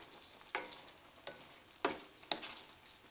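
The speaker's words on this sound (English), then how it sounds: "I'm just going to lightly stir it in here" Tomato chunks are lightly stirred into a pepper steak stir fry in a hot pan, giving four soft scraping strokes over a quiet sizzle with no talking.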